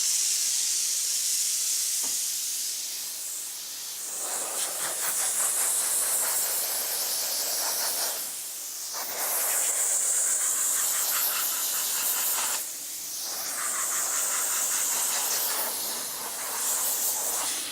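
A steam cleaner hisses sharply in bursts while a car fender is detailed. Long blasts of steam stop for short pauses and start again, close and loud.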